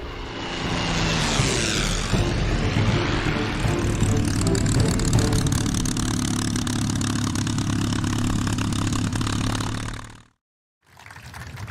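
A warbird's propeller engine drones loud and steady at close range, a thick continuous roar with a humming tone, then cuts off abruptly for a moment before the noise returns.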